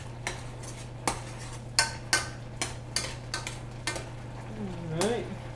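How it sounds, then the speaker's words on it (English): A utensil stirs beans and onions in a pan, tapping and scraping the metal in an irregular rhythm over a steady low hum and a faint sizzle, close up. "Stir my beans and onions over here real quick."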